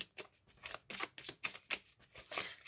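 Tarot cards are shuffled by hand for a reading, a close, soft run of quick riffling and sliding bursts repeating steadily over a few seconds with no voices.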